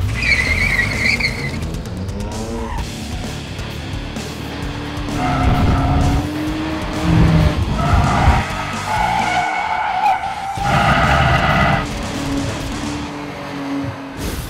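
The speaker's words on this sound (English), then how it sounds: "I've got to turn off this traction control so I can get this car sideways" A car with traction control switched off is thrown sideways, and its tires squeal and skid in long loud bursts over the revving engine. The sliding passes come in several waves, with no talk.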